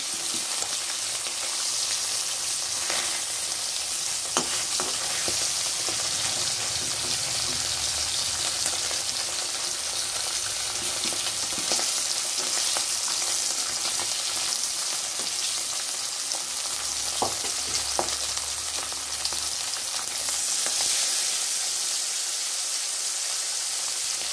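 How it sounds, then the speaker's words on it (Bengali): Bata fish pieces fry in hot oil for a potato fish curry, a loud, steady sizzle and hiss close by that runs unbroken throughout, with faint clinks and stirring underneath and no talk. "পাশাপাশি আমি এখান থেকে আবার কয়েকটা মাছ দিয়ে দিচ্ছি।"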